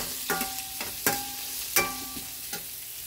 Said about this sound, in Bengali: এবার আলুটাতে একটু নুন হলুদ দেব, হলুদ দিলাম, নুন দিলাম, দিয়ে একটু লাল লাল করে ভেজে নিই।